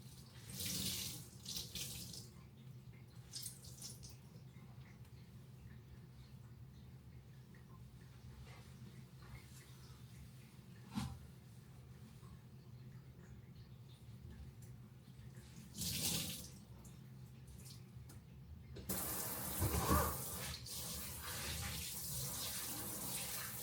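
Tap water running into a one-hole sink while dishes are rinsed, faint and intermittent with short gushes, then a stronger steady flow near the end, with soft clinks of dishes.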